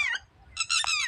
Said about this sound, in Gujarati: નાના મોટા પક્ષી પાણી તરે